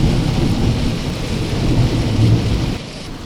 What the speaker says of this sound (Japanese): 急に嵐になってきました。もう雷と雨がすごいです。